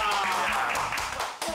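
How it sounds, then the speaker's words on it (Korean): Brief clapping from a small group of people in a Korean village comedy sitcom scene, a short burst of hand claps with some voices mixed in. "박수 한번 쳐주게 하자 박수"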